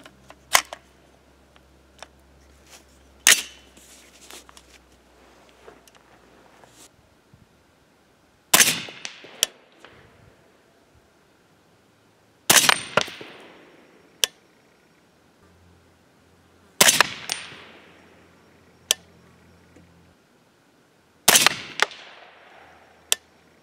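Six sharp, loud clacks spaced several seconds apart as a reloading press heavily crimps 300 Blackout cartridges loaded with ELD-X bullets, with faint handling clicks and light rattles between strokes and no talk.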